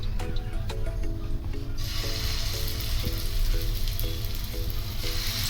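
Vegetable kebabs shallow-frying in hot oil give a steady, close, bright sizzle throughout, with faint clinking and scraping of utensils in a loose rhythm underneath.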